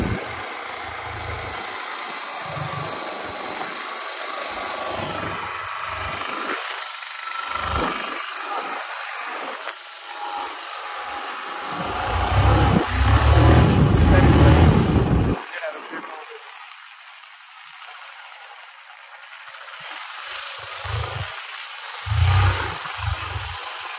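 A friend's motorbike engine on a jungle road idles and revs in uneven bursts, swelling to a loud roar midway before settling back to a rumble, with voices talking intermittently over it.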